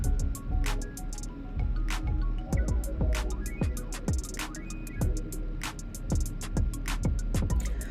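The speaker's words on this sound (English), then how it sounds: "So you're gonna see me squeeze the conditioner into my hair, really hoping that it gets every strand." Conditioner squeezed from a bottle into braided mini twists in the shower, repeated close wet squishing squirts and drips in an irregular rhythm over the hiss of running water.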